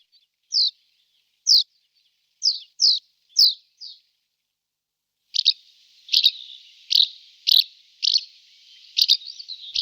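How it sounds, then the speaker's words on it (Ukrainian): A barn swallow chirps in a quick series of bright, separate notes, then gives a denser, buzzier twittering run punctuated by sharp chirps, close and clear against silence. "Ластівка цвірінька є."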